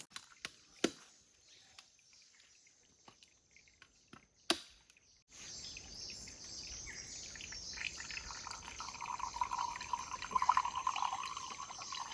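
Water is poured into a glass at a night campsite in a forest, a steady liquid trickle running for several seconds after a few sharp knocks, with faint birdsong and chirps in the background.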